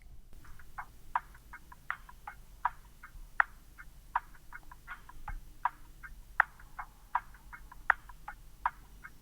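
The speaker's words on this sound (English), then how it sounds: "And before I get to the vocals, I have this percussive loop," A percussive loop for a dark music sample plays on its own, a fairly quiet pattern of sharp, clicky hits repeating in an even, syncopated rhythm with no voices over it.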